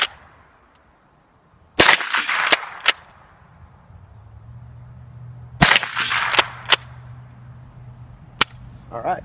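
A Rossi Model 62 .22 pump-action rifle fires sharp, loud cracks in two clusters of roughly four shots each, with a lone shot later, separated by quieter stretches and a low hum.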